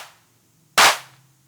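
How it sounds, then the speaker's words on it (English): A single dry, snappy electronic clap from a Hexinverter Mutant Clap drum module with its simulated reverb turned off, striking abruptly and dying away fast in near silence. "you can hear the claps lost a lot of its dimension"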